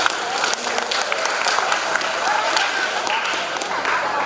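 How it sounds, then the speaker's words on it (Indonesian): Audience applause after a song at a university seminar, a dense steady wash of many hands clapping throughout. "Tepuk tangan untuk kalian."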